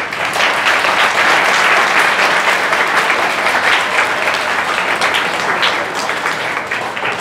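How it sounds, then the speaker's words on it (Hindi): An audience in a group class in Vishwas Nagar, Delhi breaks into loud, sustained applause of many hands clapping, fading slightly toward the end. "आधे लोग ताली बजा रहे थे इसलिए आधे लोगों ने बजा दी"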